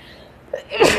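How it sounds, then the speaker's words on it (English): A single sharp human sneeze, close and loud, rising quickly at the end of a brief quiet moment. "Had to sneeze there."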